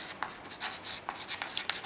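Chalk or marker strokes scratch across a board during a Class IX mathematics lesson, a steady run of short rubbing and tapping strokes, close and fairly quiet, with no talk over them.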